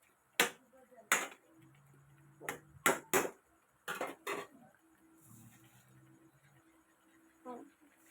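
Metal utensil scrapes and clanks against a pan while stirring masala for a banana flower kootu, in a series of sharp knocks, with quiet background hum and no clear talking.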